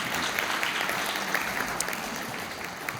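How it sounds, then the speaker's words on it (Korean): Sustained applause fills a conference ceremony hall, dense steady clapping from a large audience lasting throughout without speech. "다시 한번 큰 박수 부탁드립니다"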